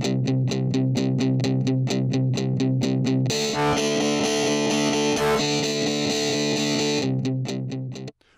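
Bass line run through iZotope Trash 2 distortion with a convolved ribbon microphone model, giving a loud, gritty, saturated tone: steady repeated notes, a sustained middle section, then the repeated notes return before a quick fade.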